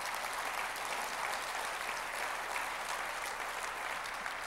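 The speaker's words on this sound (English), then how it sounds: "give yourselves a round of applause" A convention audience gives itself a round of applause, a broad, even roar of clapping from a large crowd, distant-sounding and sustained for several seconds with no voices on top.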